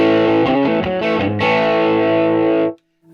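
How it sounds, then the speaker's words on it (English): A Blunt Instrument VS-20C Red Devil practice amp with its turbo control engaged pushes a loud, distorted electric guitar: a few choppy strums, then a sustained ringing chord that cuts off abruptly near the end. "Now the turbo control. This is where you can get your distortion."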